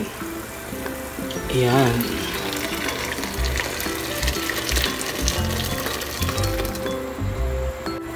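Hot water poured into a pan while cooking sotanghon guisado glass noodles, a steady splashing hiss with sizzling and metallic clinks under loud kitchen noise, as someone speaks briefly.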